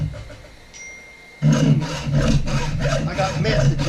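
A hacksaw cuts through brass quarter screws to remove their heads, a rapid rhythmic rasping of back-and-forth strokes starting abruptly after a quiet moment, close and fairly loud.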